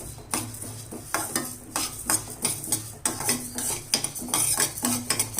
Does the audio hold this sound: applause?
no